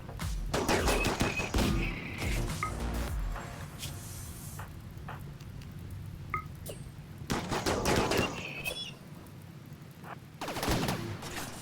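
Gunfire rattles in a RimWorld battle against mechs, with dense bursts of rapid shots and thuds that come in waves over several seconds. The shots are loud and alone, with no talking over them.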